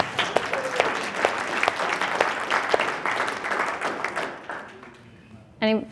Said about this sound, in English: let's all clap for supportive spouses